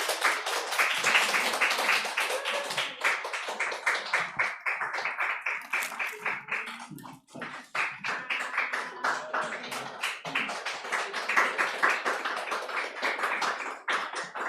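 Church congregation applauding to welcome a new member during a Korean service, a long stretch of loud, crisp, closely spaced clapping that briefly dips midway and then swells again.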